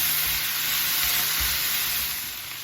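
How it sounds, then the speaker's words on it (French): Rosemary and herbes de Provence stirred in a hot pan of sizzling vegetables, a steady close frying hiss with soft scraping stirs underneath, fading slightly at the end. "du romarin, des herbes de Provence et je mélange"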